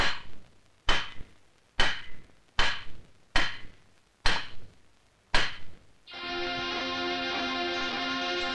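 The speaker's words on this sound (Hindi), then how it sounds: "लोहे की तरफ मार, हथौड़ा मार, और जोर से" A hammer striking iron at a forge during a film scene, seven loud, evenly spaced metallic blows ringing close by, followed by a sustained bright ringing musical tone.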